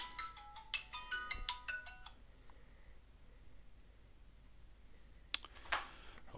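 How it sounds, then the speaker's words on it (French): A telephone rings during a Defenders of the Realm board game, a quick series of bright electronic chirps that stops after two seconds, followed by quiet and a couple of clicks. "Alors le téléphone sonne."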